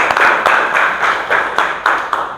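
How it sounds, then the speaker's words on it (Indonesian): A small group of students clapping for a classmate in a school classroom, a brief loose burst of uneven hand claps with distinct sharp hits. "Semoga Lutfi beri tepuk tangan untuk temannya."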